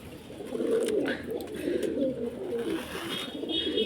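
Soft, low cooing of several pigeons overlapping continuously, with faint rustling and a few distant background sounds.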